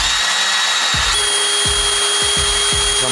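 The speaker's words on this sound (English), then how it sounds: "I'm gonna drill in a little bit and then I want to pull it out" A power drill bores into scrap wood in a home garage, its motor whining steadily at high pitch while the bit catches and chatters in several short, loud bursts as it bites into the board.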